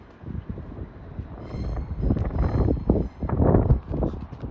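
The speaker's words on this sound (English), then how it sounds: "Bit windy over here." Wind gusting across a railway station platform at Swansea after a storm, a loud, rough buffeting roar on the microphone that swells and builds toward the end, with no speech.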